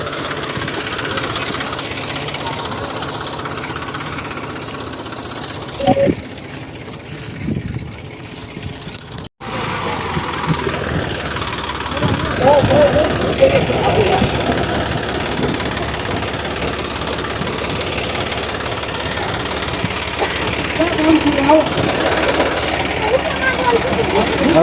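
A tractor engine runs outdoors with a rough, knocking rumble that drops out briefly and then picks up again louder, while people talk over it.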